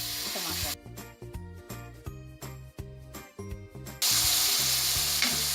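Two grated tomatoes go into a spiced masala cooking in ghee, producing a stirred, crackling fry that swells into a loud, continuous sizzle in the last stretch, with music playing along.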